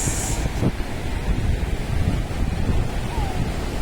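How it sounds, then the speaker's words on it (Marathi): Sea waves wash steadily onto Tarkarli beach on the Konkan coast, a close, continuous roar of surf mixed with gusting wind noise on the microphone. "लाटांचा आवाज"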